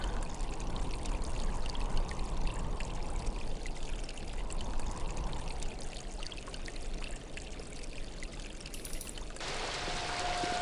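Water pours and rushes steadily in the adventure game The Dig, a continuous hissing flow at moderate loudness that changes character near the end, with no talk.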